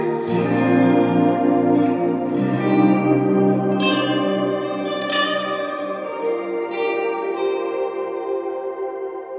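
Strymon BlueSky reverb pedal with shimmer and modulation engaged, a sustained chord wash with bright shimmering upper octaves and swirling reverb tails, steady and alone with no talking.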